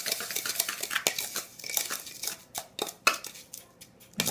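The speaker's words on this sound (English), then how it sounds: "Mix this one up." Dry seasoning salt mix with sage being stirred in a bowl, a steady run of scraping and clinking strokes of a utensil against the bowl at close range, with no voices.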